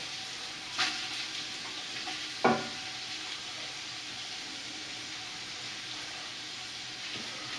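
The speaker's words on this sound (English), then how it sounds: "I'm just going to add my onions." Onions frying in a pot for homemade chili, a steady close sizzle with a couple of sharp utensil knocks early on and no talking.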